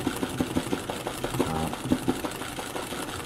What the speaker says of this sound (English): hoop in the machine, press the start button, and wait for it to tell you to change the thread